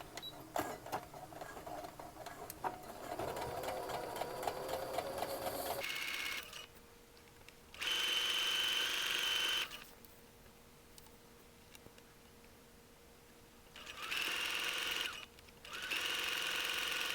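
A home sewing machine stitches a 5/8-inch seam in sweater fabric at a 2.5 stitch length. It runs in steady buzzing bursts that stop and restart several times, close and clear, with no talking.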